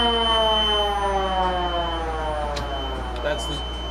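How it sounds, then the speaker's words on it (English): A fire truck's siren sounds from inside the cab, a loud, steady, tonal wail that slowly sinks in pitch as it winds down, with a few faint clicks near the end. "that's the siren, and then we have the air horn"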